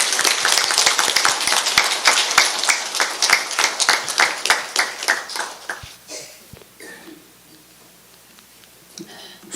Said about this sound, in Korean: 큰 박수로 법사님을 모시겠습니다.